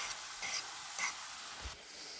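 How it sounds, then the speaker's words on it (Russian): Chopped onion and cabbage fry in a pan at home, giving a steady, fairly quiet sizzle with brief stirring scrapes over about two seconds and no talking. "Сейчас я в капусточку его закину сразу и буду обжаривать."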